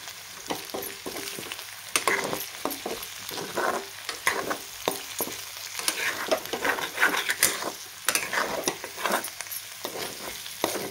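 Spiced potatoes fry in a pan with chilli powder and masala, sizzling continuously up close. A spatula scrapes and stirs through them in repeated rhythmic strokes, with occasional light clinks against the pan.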